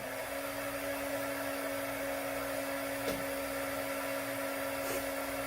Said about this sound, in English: I'm going to get the heat gun going.